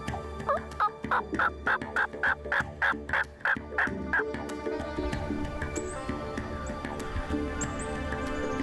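A wild turkey tom gobbles in a rapid rattling burst of a dozen or so pulses over about four seconds, loud and fairly close outdoors, then it fades into faint ambient sounds and a few distant calls.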